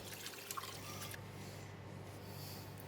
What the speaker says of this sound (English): Now I'm going to pour in the red wine.